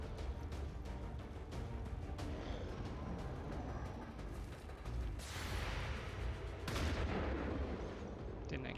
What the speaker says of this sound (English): Didn't expect he'd shoot that from there with a shotgun